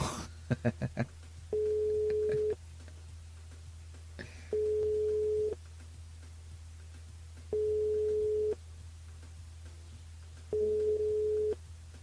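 An unanswered telephone call rings out in a regular pattern, four evenly spaced tone bursts about a second long with equal gaps between them. The ringing sounds thin and line-like over a low hum, with a few brief clicks at the start.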